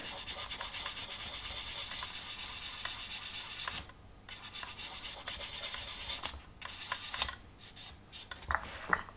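Fine sandpaper rubbed in circles over the primer on an MPC 1/24 scale General Lee model car gives a steady close scratchy rasp, then pauses and returns in shorter strokes with small taps.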